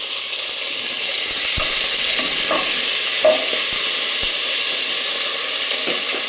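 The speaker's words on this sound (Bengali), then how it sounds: "আদা রসুন বাটা দিয়ে দিলাম।" Ginger garlic paste fries in a pan with a steady close sizzle, punctuated by a few soft scrapes and knocks of stirring.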